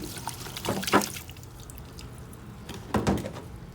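A gallon of water poured into a dirt-making soil mix, arriving in two short splashing pours with a quiet gap between, close and moderately loud.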